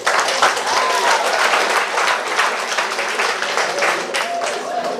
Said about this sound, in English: let's bring on Ms. Mark with a lusty round of applause